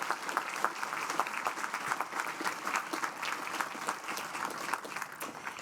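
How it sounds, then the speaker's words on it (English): A large crowd at a university commencement ceremony applauds continuously, a dense, even wash of clapping from a big hall that holds steady throughout without speech. "If we give one more loud round of applause, he'll hear us in Spain."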